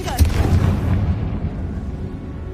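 A Confringo fire spell explodes in Hogwarts Legacy, a single heavy boom with a crackling burst that rumbles low and decays over a couple of seconds.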